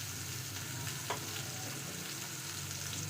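Sliced onion and curry leaves fry in an oil-filled pan while bitter gourd is being cooked, a steady close sizzle with a few light stirring scrapes and no talking.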